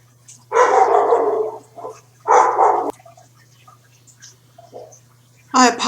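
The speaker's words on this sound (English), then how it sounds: "My pup was in the background." A pet dog barks indoors in the background in two sharp, fairly loud bursts, followed by a few faint yips, with a voice briefly heard at the end.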